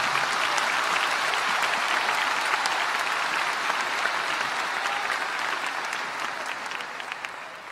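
A church congregation at an Assemblies of God service in Brás applauds loudly and steadily for Jesus. The dense clapping holds strong for the whole stretch and tapers slightly near the end, with no talking over it.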